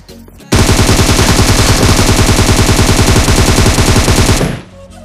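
Sustained rapid automatic gunfire in the mobile game PUBG Mobile, a loud, dense burst of evenly spaced shots lasting about four seconds before cutting off abruptly.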